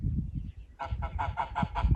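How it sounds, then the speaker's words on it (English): A goose honks in a paddock in a rapid run of about seven loud, close, nasal calls that start partway through, over low rumbling background noise. "This is my paddock, Mr. Goose. You better walk away"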